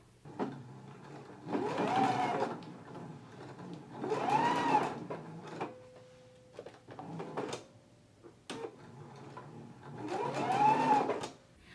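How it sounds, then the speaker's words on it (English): A sewing machine stitches along a fabric edge in several bursts of steady whirring, pausing briefly between runs, close and fairly loud with no talking. "So let's go ahead and stitch along this edge only now."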